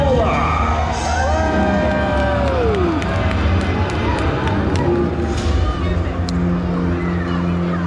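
A crowd at Butlins Minehead cheers and shouts for a Stegosaurus, a loud, dense roar of voices lasting the whole stretch, with whistle-like tones and a sweeping call rising above the noise.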